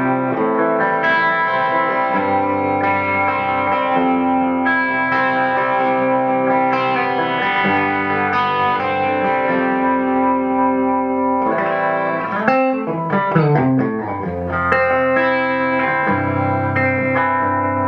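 Electric guitar played through a Bullet-ray fluffgirl fuzz pedal with the fluff control fully up into an amp, giving thick, saturated sustained chords and notes, loud and alone, with a busier strummed passage near the end.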